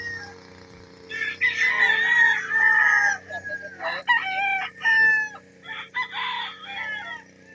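Chickens and a rooster at a backyard fowl pen in the Philippines cluck and call repeatedly, close and fairly loud, in bursts of varied pitch with short pauses between.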